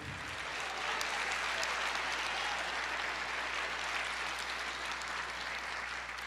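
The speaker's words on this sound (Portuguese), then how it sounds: "Aplauda, Senhor." Congregation applause during a church sermon: a steady, dense wash of clapping heard at a low level, with a constant low hum underneath and no clear speech.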